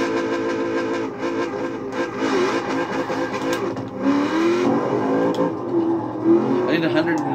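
Forza Edition 69 Nova engine in Forza Horizon 4 roars and revs under someone talking, the tone rising and shifting through gears, loud and close with game effects layered in.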